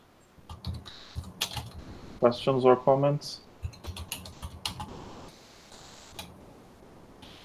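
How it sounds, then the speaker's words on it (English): Keys clatter in quick, uneven bursts as people type on computer keyboards during an online probability webinar. The tapping continues under and between a speaker's short question to the audience. "I can hear people typing."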